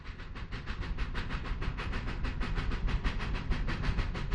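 Steam locomotive 2141 of the Kamloops Heritage Railway runs eastbound from Kamloops toward Armstrong, its wheels clicking over rail joints in a fast, steady rhythm beneath a constant hiss of steam, heard alone at moderate distance.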